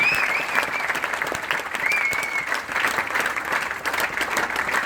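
An audience at an Amway India event claps in sustained, dense applause, loud and close, holding steady without any voices.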